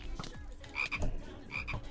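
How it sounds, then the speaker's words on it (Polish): Frogs croaking in Minecraft, repeated deep gulping croaks with short chirpy overtones, close and clear, several calls in quick succession. "To są żaby."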